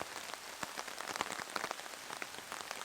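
Rain falls steadily on an outdoor disc golf course at the Nantucket Disc Golf Open, a dense hiss with many scattered patters of drops hitting nearby surfaces.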